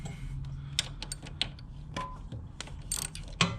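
Valve cover bolt being tightened on a Honda Ruckus scooter engine, giving a few faint ratchet clicks and metallic ticks at irregular intervals against a low steady hum, with no talking.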